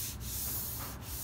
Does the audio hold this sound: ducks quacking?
no